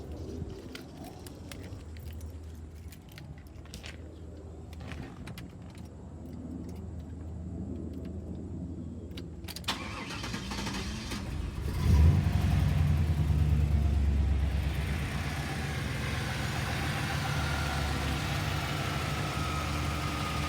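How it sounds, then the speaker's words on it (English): A Chevrolet box-body car engine cranks and fires up, then settles into a steady, rumbling idle close by, continuing for several seconds. "the car does run. Matter of fact, I'll start it up for you."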